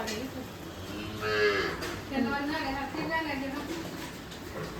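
A water buffalo that has just calved lows nearby with a couple of drawn-out moos, while people talk in the background.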